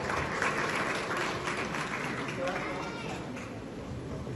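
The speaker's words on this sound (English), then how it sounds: "Big round of applause." Audience applause fills the room at a live event, a dense, steady wash of clapping that stays fairly loud throughout and fades slightly toward the end, with scattered voices mixed in.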